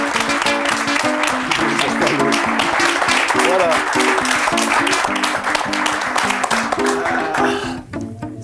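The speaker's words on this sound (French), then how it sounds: "on l'applaudit" A TV studio audience applauds as a guest arrives, a dense round of clapping under a bright music sting, with a brief spoken word toward the end.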